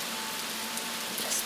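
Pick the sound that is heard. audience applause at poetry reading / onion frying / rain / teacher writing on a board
rain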